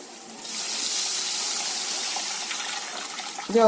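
Tamarind juice pours into a pan of lightly fried green chillies, a steady splashing gush that rises quickly and holds for a few seconds, close and alone, ending with a brief clatter.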